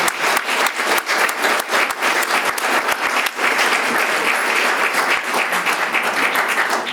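Loud, dense applause fills a candidates forum audience hall, steady and sustained throughout with no break.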